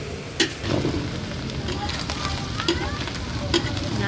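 Meat fries in pans on a stove for a wedding feast, a loud continuous sizzle and crackle close by, with occasional knocks and stirring sounds over it.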